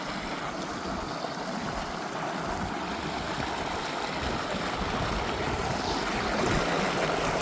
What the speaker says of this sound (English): we made it to river number 5 crossing.